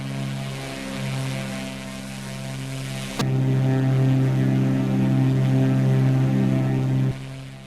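A propeller aircraft flies past in the X-Plane flight simulator game, giving a steady, droning engine hum with strong tonal harmonics that swells louder partway through and then holds, with no talking.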